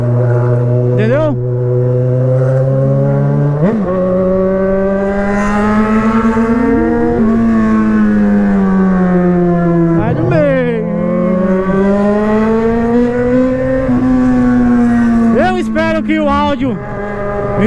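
A motorcycle fitted with a 4-inch exhaust, ridden by riders practising wheelies, roars loudly and continuously, its droning engine note rising and falling through several revs without a break.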